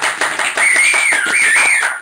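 An audience claps for a few seconds, a dense patter of hands, fairly loud, with a voice or whistle-like tone riding over the applause.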